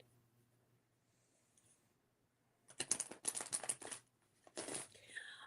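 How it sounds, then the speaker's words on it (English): A deck of cards is shuffled close up, with a burst of crisp riffling and flicking after a quiet pause, followed by a brief second flurry. "I'm going to shuffle my cards."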